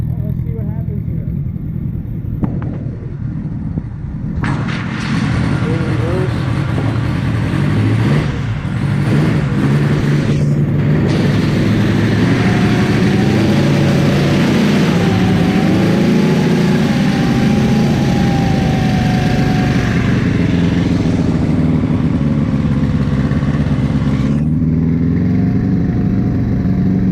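A Teledyne engine fitted to a golf cart, jump-started from a car battery, idles and runs steadily with a low mechanical drone that holds for the whole stretch, loud and close.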